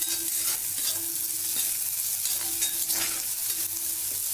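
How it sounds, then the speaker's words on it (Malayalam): Onion sautéing in a pan for a chutney, a steady close sizzle and frying hiss with occasional stirring scrapes throughout, no voices. "അപ്പോൾ ഈ ഉള്ളി ഒന്ന് വഴഞ്ഞെടുക്കണം"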